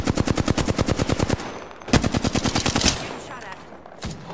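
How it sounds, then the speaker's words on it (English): Rapid automatic gunfire in the video game Apex Legends, two long bursts of evenly spaced shots, loud and close, separated by a short pause and followed by a single later report. "The enemies are shooting at me."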